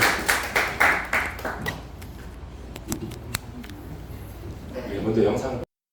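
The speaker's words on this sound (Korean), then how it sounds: "우리 큰 박수로 우리 마이클 조 목사님 맞아주시겠습니다" A church congregation claps to welcome pastor Michael Cho at a Thanksgiving service at the Taipei Full Gospel Church. A burst of hand claps fades out within about two seconds and is followed by faint taps and rustling.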